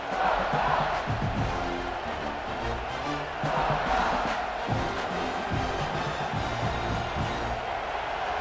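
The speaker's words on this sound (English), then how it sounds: "It's early, but this crowd is fired up. Listen to this noise here." A fired-up stadium crowd roars and cheers at a college football game between Texas and Georgia, a continuous loud wall of voices with swelling peaks, heard fairly near throughout.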